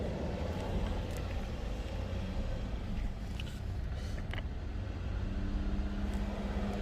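Engine of a Hyundai Genesis with a throttle fault and check engine light on, held at full accelerator: a steady, loud, continuous drone that hums on without clear rises, with no talk over it.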